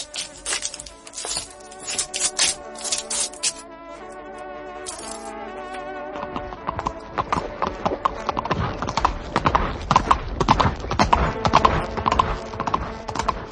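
Horse hooves clip-clopping in a steady rhythm, getting denser and louder as the horse moves, with a faint whinny early on.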